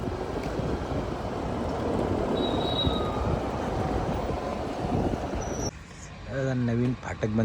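A local train rumbles past at a railway crossing with heavy, continuous wheel-on-rail clatter and a brief high squeal. The noise cuts off near the end, and a person's voice follows.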